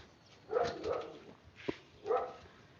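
A dog barks from behind a closed door in a few separate bursts, with a short sharp yelp between them, heard fairly close and without talk over it.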